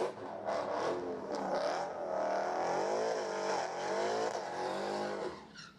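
A modern Hemi class Mopar drag race car on a qualifying run roars at full throttle, its engine note rising and falling through gear changes, loud and sustained before fading at the end, with no talk.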